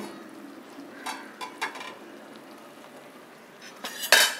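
Kerala-style mashed jackfruit being stirred in a pot, soft scraping and a few utensil clinks against the metal, quiet and close, ending in a louder clatter.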